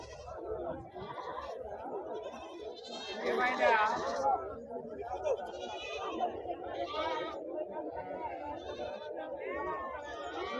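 Goats and rams bleating at the Husnabad weekly market, several overlapping cries near and far over busy crowd chatter, one louder bleat standing out early on.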